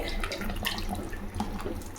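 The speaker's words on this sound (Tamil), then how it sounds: "ஜார் கழுவிட்டு" Tap water runs steadily with a broad splashing hiss, close by, as a mixer-grinder jar is rinsed under the stream.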